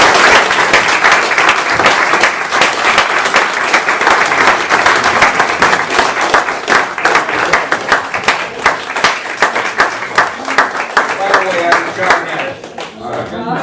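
Loud, sustained applause from the audience fills a Purple Heart city ceremony, dense clapping that carries on for over ten seconds and thins slightly toward the end, with some crowd voices mixed in.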